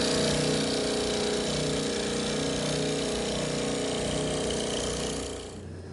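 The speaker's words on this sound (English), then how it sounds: "Here I'm using my oscillating spindle sander to clean up the inside of the hand hole." Oscillating spindle sander running steadily while sanding the inside of a wooden serving tray's hand hole, a constant loud motor hum with abrasive whir that tapers off at the end.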